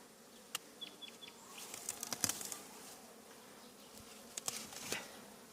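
Carniolan honeybees swarming densely at a hive, a continuous soft buzzing drone with individual bees passing closer at moments, no voices.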